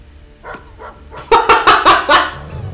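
Cosmo the dog from the Guardians of the Galaxy video game barks, a few softer yips followed by a run of four loud, close, rapid barks with no speech.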